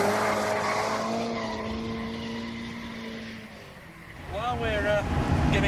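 A turbocharged Ferrari race car on a track, tested in 1989, holds a steady engine drone, then bursts into rising, warbling tire squeal as wheelspin kicks in with the boost, with someone talking over it.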